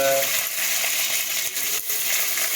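Dried red chillies and onion frying in hot oil with a steady, close, loud sizzle, with a few faint stirring sounds and no talk.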